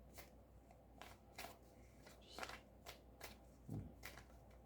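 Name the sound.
shuffling tarot cards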